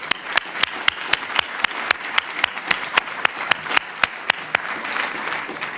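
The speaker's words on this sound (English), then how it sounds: "Let's give them a very warm round of applause" A conference audience claps steadily, crisp individual hand claps ringing out in a fairly regular rhythm with a soft crowd murmur beneath, no voices over it.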